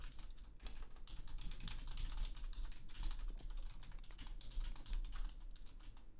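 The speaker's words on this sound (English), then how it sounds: "He's typing like the wind." Rapid typing on a computer keyboard during a livestream, a quick, continuous patter of close key clicks with no pauses, fairly quiet and with no one talking.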